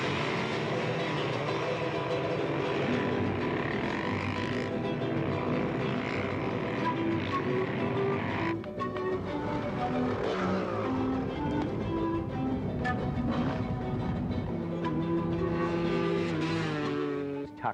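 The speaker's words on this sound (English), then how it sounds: "You heard the bike go, whoa" A dirt bike engine in the 1996 Incas Rally across the Peruvian Andes, revving hard and wide open with a loud buzzing roar whose pitch climbs and shifts repeatedly through gear changes, close and continuous without voices.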